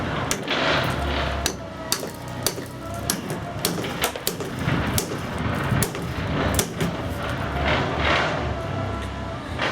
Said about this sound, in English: give it a few whacks with a hammer